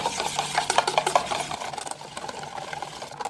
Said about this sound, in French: J'ajoute mon chocolat aux œufs et je mélange.